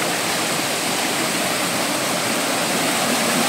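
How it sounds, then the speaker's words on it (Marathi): Small waterfall among large boulders, a loud, continuous broadband rush of falling water, steady and close throughout with no other sounds. "आणि हे बघा इकडे वरती अजून एक छोटा धबधबा आहे"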